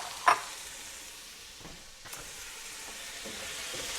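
Carrots stirred in a pan for an Irish stew, a soft steady sizzle with a brief clatter of stirring near the start and quieter scrapes later, no voices.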